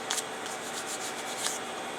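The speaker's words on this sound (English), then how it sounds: "it's just standard ceramic sanding paper" Short rhythmic scratchy rubbing of ceramic sandpaper against a surface, a few quick strokes close up with no talk.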